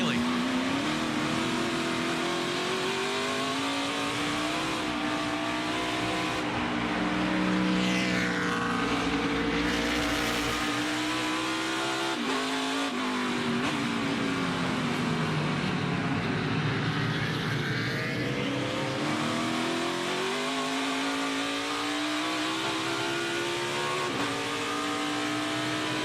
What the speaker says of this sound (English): Justin Haley's right foot. Obviously wide open.